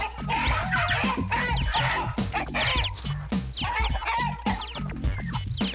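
A flock of chickens in the video game Mort the Chicken cluck together in a dense, rhythmic chorus, repeating bursts of clucks with a steady pulse throughout, loud and continuous.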